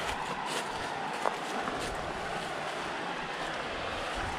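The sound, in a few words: creek water flowing at campsite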